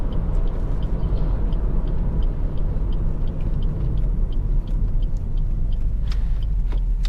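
Steady, loud cabin rumble inside a Suzuki SX4 S-Cross 1.6 SZ-T five-door cruising at 60 mph, with low road and engine drone running continuously and no talking.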